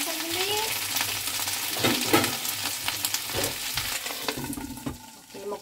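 Leftover chicken wings and alugbati greens frying together in a pan, a steady close sizzle broken by a few clinks and stirring scrapes, with no talking.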